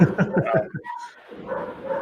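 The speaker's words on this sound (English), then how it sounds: "Sorry if you guys can hear dogs barking." A dog gives a quick run of sharp yips and barks, close by, followed by a brief high whine and softer murmuring noise.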